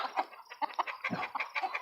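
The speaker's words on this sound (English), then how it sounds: "the roosters give them their little warning call" Busy clucking and squawking from several chickens, roosters giving short sharp warning calls overlapping in quick succession, fairly close.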